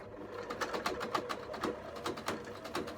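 A sewing machine runs a straight stitch on curtain fabric with a fast, even mechanical chatter, close and fairly quiet, and no talking.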